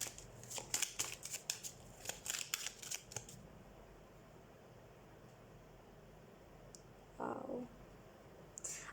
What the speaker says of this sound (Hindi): एक और कार्ड मैं आपके लिए लेना चाहूँगी।